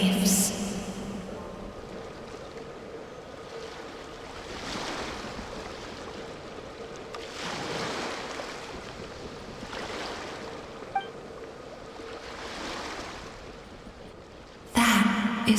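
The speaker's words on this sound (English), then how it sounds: "Go to where you can hear the sound of the waves." Ocean waves wash in the Genshin Impact game world, a soft steady surf swelling and receding several times at a moderate distance, with no voices over it.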